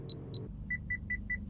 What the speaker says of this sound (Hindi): ये देखिए अब बीप साउंड इसमें कर रहा है